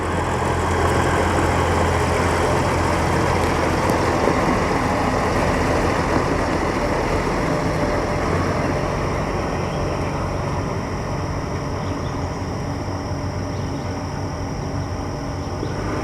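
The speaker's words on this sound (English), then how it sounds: "You might see the tractor running in the background." A steady, low tractor engine drone runs continuously at a constant level on a farm during spring planting, with no voices.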